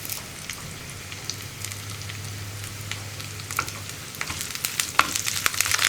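Dried red chillies and curry leaves drop into a hot curry for a bitter gourd and mango dish, crackling and spattering in sharp irregular pops over a low sizzle, growing busier and louder toward the end.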